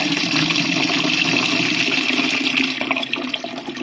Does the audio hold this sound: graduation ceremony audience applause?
no